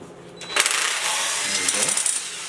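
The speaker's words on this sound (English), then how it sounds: "Make sure you're on the bolt first before you hit the trigger." A power tool, likely an impact gun, removing a bolt from an old engine, a loud buzzing whir lasting about two seconds after a brief clatter, up close.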